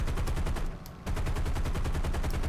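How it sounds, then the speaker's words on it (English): Rapid, sustained machine gun fire from an aircraft in the air-combat game War Thunder, loud and continuous with one brief gap partway through. "I can keep hitting him and hitting him and hitting him with the machine guns"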